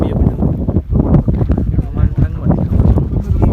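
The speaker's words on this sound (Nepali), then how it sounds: "चिसो हावा लागिरहेको छ" Cold mountain wind blowing at Lo Manthang in Mustang, a steady rough rumble buffeting the microphone throughout, with faint voices underneath.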